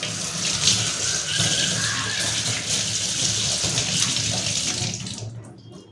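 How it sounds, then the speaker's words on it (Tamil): Tap water runs steadily while a gas stove burner with a low flame fault is rinsed, a loud continuous splashing gush that cuts off abruptly near the end. "ஃபஸ்ட்டு இதை நம்ம தண்ணியில் லைட்டாக கழுவி எடுத்துக்கலாம்."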